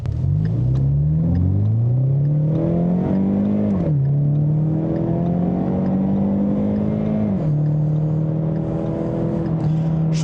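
A Ford Mustang 2.3 EcoBoost in sport mode revs loudly and close, its engine tone climbing and dropping in repeated pulls and shifts over a continuous deep rumble, with no talking.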